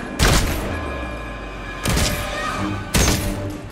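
Three loud gunshots ring out in the video game Redfall, each a sharp close blast spaced about a second and a half apart, with a short echoing tail after each.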